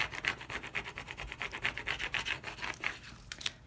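A burnishing tool rubs over Oracal vinyl transfer tape pressed onto a vinyl design, making quick rhythmic back-and-forth scraping strokes, close and fairly soft, with no talking.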